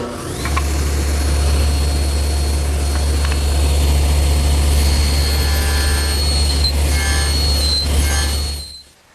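A table saw nibbles waste from a haunched tenon for a Shaker wall clock: a loud, steady motor drone with a continuous high whine that holds for several seconds, then drops away at the end.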